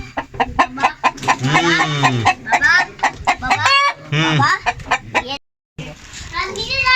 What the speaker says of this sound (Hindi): ये देखो, ये हैं जी इनकी मुर्गियां।